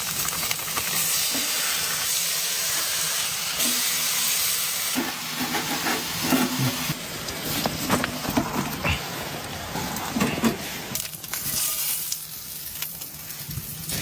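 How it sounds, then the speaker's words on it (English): Bacon fries in a pan at an outdoor camp, a loud, continuous hiss and crackle that runs throughout with only slight shifts in texture. "First up, gotta cook the bacon."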